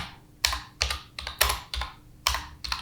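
Close computer keyboard keystrokes sound as a series of about seven separate, crisp clicks at an uneven pace, with no voices over them.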